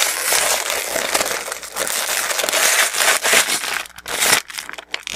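A vinyl pastry bag crinkles and crumples as a mixing cup is nested inside it, close rustling handling noise that keeps on and breaks off near the end.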